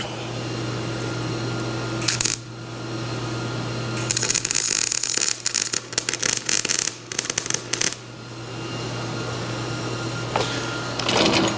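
Parts of a mobile sandblast trailer are welded, giving a loud close crackling buzz in bursts that start and stop, over a steady low machine hum.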